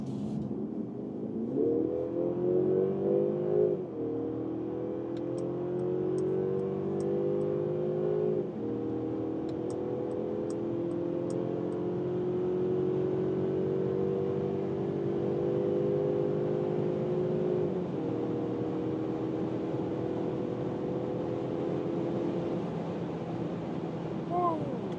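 Mercedes car in sport mode accelerating hard at high speed, its engine pitch climbing through several rising gear pulls with shifts between, heard from inside the cabin under steady road and wind noise.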